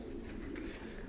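Pigeons in a loft of racing birds give soft, low cooing, faint and continuous throughout with no voices.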